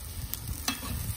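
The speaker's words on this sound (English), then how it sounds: "Now, just spray the rice everywhere." Rice spread over the sizzling base of an Uzbek plov in a pot, giving a steady soft frying hiss with a couple of brief crackling pops, close and fairly quiet, no talking.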